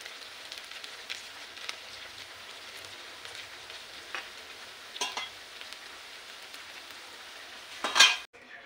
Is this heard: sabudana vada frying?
yes